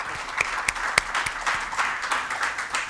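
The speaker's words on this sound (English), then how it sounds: "I think that my panels deserve another bigger round of applause." Conference audience applauding a panel on tax justice, a moderate round of scattered clapping with a few sharp individual claps standing out, no talking over it.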